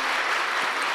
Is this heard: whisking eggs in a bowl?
no